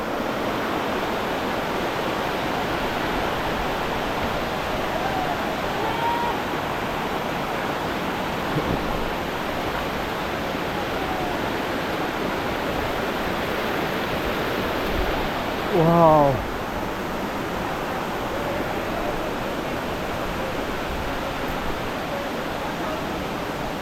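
Dhuppani waterfall in Bilaichhari pours in a steady, even rush of falling water that fills the whole stretch, with one brief chirp-like sweep partway through.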